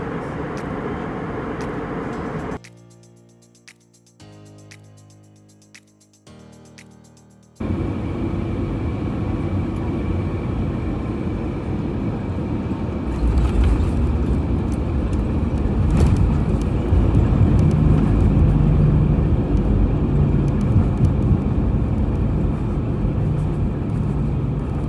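Cabin of an SAS Airbus A320-200 airliner in flight, a steady broadband rumble and hiss that drops out briefly near the start, then returns louder and grows heavier in the second half, with no talk.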